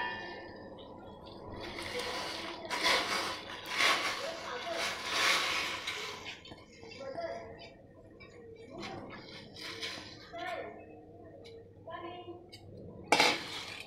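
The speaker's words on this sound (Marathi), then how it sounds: "आता आपण याला कुकरमध्ये लावून देऊया" Soaked, washed dal is tipped into a pressure cooker in a home kitchen, with clinks and knocks of metal vessels and a splash of water, moderately close, while someone talks over it.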